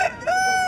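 A fighting rooster at the Pebbair weekly market lets out a short, loud crow, heard up close as a brief tonal fragment.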